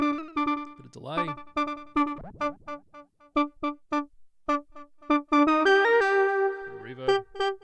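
Sustained tones and short plucked notes from a Moog One synthesizer play through a delay effect, with notes repeating and trailing off into echoes. A pitch sweep rises near the start, and a thicker chord swells near the end.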